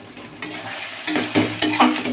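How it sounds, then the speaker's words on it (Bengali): Green peas, green chilies and curry leaves frying in a kadai, with a few stirring scrapes and clinks of a utensil against the pan over a low background sizzle. "তারপরে এগুলো একটু লাল করে ভাজবো"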